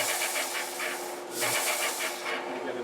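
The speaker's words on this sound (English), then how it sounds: "we're just going to thin that out on the sander" Belt or disc sander thinning a bone saddle blank for a Martin 00-18 guitar, a steady rasping grind with pulsing strokes throughout, loud and close, no talk.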